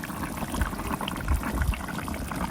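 Bograch stew with potatoes simmering in a cauldron, a low, steady bubbling with soft irregular plops, quiet and close, with no voices.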